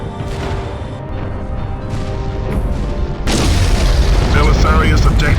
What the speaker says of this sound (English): Gunnery control, open fire.